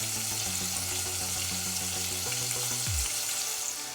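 Onion and tomato frying in hot oil in a pan, a steady close crackling sizzle that runs throughout with low tonal hum beneath, no voices.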